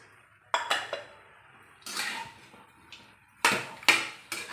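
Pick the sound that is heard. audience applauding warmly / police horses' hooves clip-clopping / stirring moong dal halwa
stirring moong dal halwa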